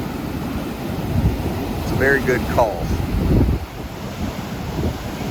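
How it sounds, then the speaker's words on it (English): Ocean surf breaking on a beach under red-flag conditions, with a continuous wash of waves and heavy wind buffeting the microphone while someone talks over it. "taking a look at these waves"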